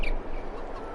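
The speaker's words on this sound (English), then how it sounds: "We come around here to the chicken pen," Chickens in a small snowy farm pen in Farming Simulator 22 give brief clucking calls over a steady low background hum, close and moderately loud with no talking.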